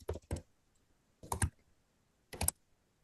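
Keystrokes on a computer keyboard in three short bursts of typing with pauses between, close and clear in a quiet room.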